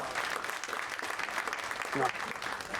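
Audience applause at a Black History Month fireside chat held at a law firm, a steady wash of clapping filling the room at moderate level for the whole stretch.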